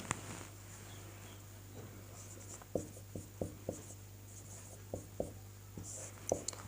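Chalk or marker writing on a board during a Sanskrit translation lesson taps and scratches in short irregular strokes, fairly close and quiet over a steady background hum, with no voice heard.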